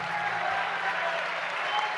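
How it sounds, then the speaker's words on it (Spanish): A crowd at a provincial productive congress in Buenos Aires claps for the governor, steady massed applause throughout, with faint voices mixed in beneath the clapping. "No hablé y ya tuve 3 aplausos"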